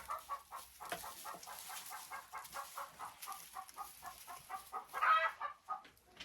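Dark Shell hens cluck steadily in their enclosure, a close, rhythmic run of short clucks with a louder squawk near the end and no talking.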